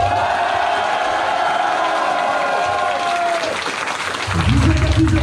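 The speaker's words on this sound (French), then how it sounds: "qu'on peut applaudir s'il vous plaît" A crowd at a privatized Nigloland amusement park gives sustained applause with scattered cheers and whoops, steady and full, with a voice rising near the end.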